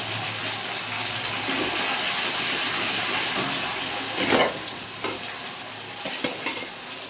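Masala with ginger-garlic paste sizzles in a pan and is stirred, a steady close frying hiss broken by scraping, clattering stirring strokes.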